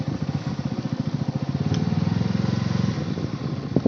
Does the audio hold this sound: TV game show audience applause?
no